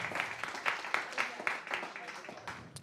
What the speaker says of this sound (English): So we'll give her a round of applause.